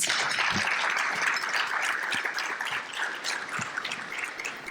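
Sustained audience applause at an awards and scholarships ceremony, a dense steady wash of many hands clapping that fades slightly toward the end.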